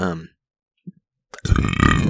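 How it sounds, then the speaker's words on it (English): A single short burp sits in a quiet gap between stretches of speech from a woman, with talking resuming right after it. "These burps are really confusing me."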